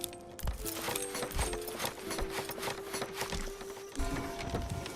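Horse hooves clip-clopping in Manor Lords, a quick uneven run of close knocks over a busy medieval village background with faint tonal game sounds, no voices.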